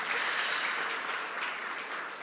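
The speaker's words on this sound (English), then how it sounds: "Now, yes, that's a moment for applause." Audience applause at a public sector debate competition, a dense, steady patter of many hands clapping, moderately loud and without voices.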